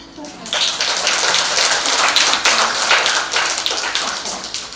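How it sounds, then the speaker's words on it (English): Dense, continuous applause from a large audience at the APCITG annual meeting in 2019, loud and steady throughout, with a faint voice near the start. "let us applaud for MCIS"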